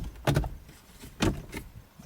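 A plastic center console trim piece on a Subaru WRX STi pinched and pulled up by hand, two short firm clicks and scuffs about a second apart, close and dry with quiet gaps between.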